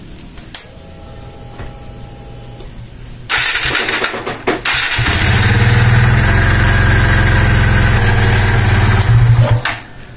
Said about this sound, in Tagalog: papaandarin pa po natin tong ating makina upang makaikot yung langis